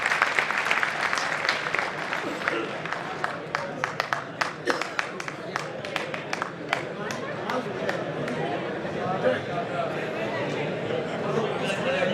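An audience at a Hindi comic poetry gathering breaks into vigorous applause, sharp individual claps rising over a thick crowd wash for the whole stretch, with voices murmuring underneath.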